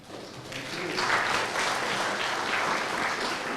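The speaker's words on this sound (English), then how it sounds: "Big applause." Audience applause at a round-table conference session, swelling quickly from a few claps into steady, moderately loud clapping from a roomful of people.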